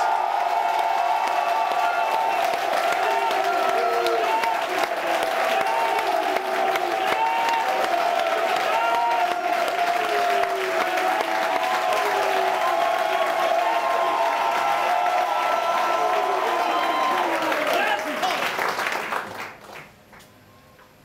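Church congregation applauding and cheering for Jesus Christ, a dense sustained roar of clapping with shouts and whoops across a large hall, loud and continuous before fading out at the end.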